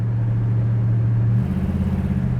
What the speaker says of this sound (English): The exhaust has a nice throaty sound to it too.